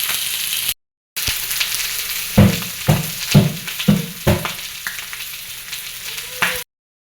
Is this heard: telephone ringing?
no